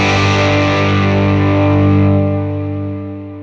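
An electric guitar through a Fender Mustang GT amp with the gain fully up and a delay at the end of the chain rings out as one heavily distorted, sustained chord that slowly decays.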